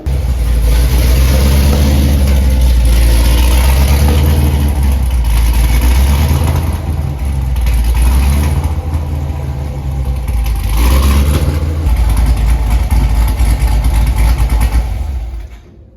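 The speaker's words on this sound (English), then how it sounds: "get some idle clips, some clips going down the road, and show you guys what this BTR 220 cam is all about" A C7 Corvette with a BTR 220 camshaft, AFM/DOD delete and VVT lockout, rumbling loudly and steadily close by with a deep, uneven lope and a few swells in revs.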